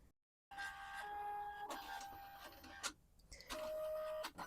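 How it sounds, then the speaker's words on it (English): A Liene PixCut S1 sticker printer whirs and clicks as it powers up, with mechanical buzzing, short tonal beeps and sharp clunks over several seconds, fairly close. "I do need to fire up the printer."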